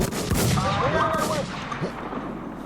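Gunfire in the survival shooter game Warz: a loud burst of shots near the start followed by echoing reports and rumbling, with players' voices mixed in.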